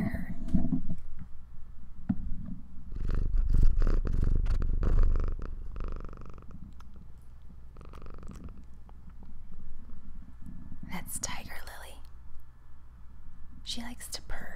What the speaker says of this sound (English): the sounds of this cat purring